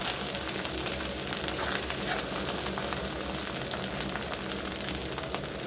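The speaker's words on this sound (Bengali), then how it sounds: "এখানে মশলা ভাজা হচ্ছে, হালকা করে পেঁয়াজ, লঙ্কা, মশলা, রসুন, আদা রসুনকে একসঙ্গে" Spices, onion, chili, garlic and ginger fry together in hot oil, giving a steady, close, dense sizzle throughout with no talking.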